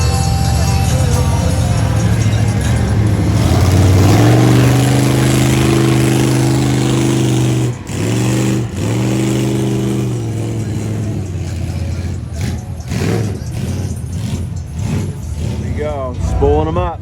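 Mud bog truck engine at a summer mud bog event, revving hard with rising and falling pitch sweeps, a brief cut, then sharp repeated throttle blips, loud and close, with people talking over it.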